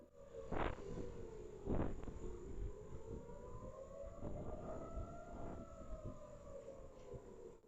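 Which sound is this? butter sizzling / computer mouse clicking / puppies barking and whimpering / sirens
sirens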